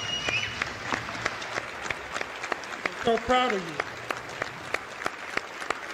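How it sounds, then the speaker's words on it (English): Steady applause from a crowd, many hands clapping densely throughout, with a brief spoken phrase breaking through partway. "A big round of applause."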